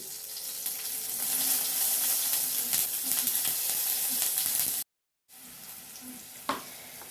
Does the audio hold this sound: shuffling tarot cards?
no